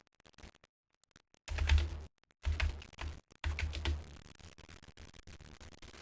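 Bursts of rapid keyboard typing, close and clear, broken by short pauses of silence.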